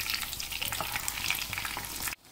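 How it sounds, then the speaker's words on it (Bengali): Mutton cutlet frying in hot oil gives a steady, close, dense sizzle with crackling pops throughout, then cuts off abruptly at the end; no one speaks. "অনেকক্ষণ ধরে ভাজছি, তাহলে মাটনটা ভেতর থেকে তৈরি হবে"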